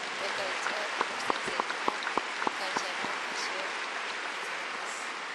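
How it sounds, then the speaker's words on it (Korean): A church congregation applauds in thanks for the senior pastor during a missions day service, a soft, distant patter of clapping from a large crowd with a few sharper nearby claps standing out early on. "담임 목사님께도 감사의 박수를 드립니다"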